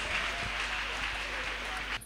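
A church congregation claps hands together, a dense continuous patter of many people filling the room, with voices talking over it before it cuts off abruptly.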